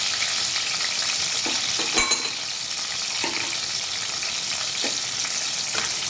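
Crushed garlic and ground spice paste frying in a pan, a continuous close sizzle broken by several spatula scrapes and taps, with no voices.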